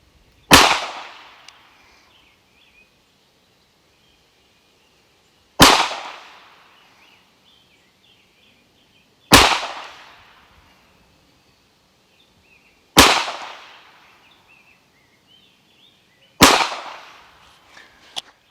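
A Tisas PX9 Carry pistol fires five sharp, loud shots at an outdoor range, spaced a few seconds apart, each leaving a short echoing tail before quiet returns.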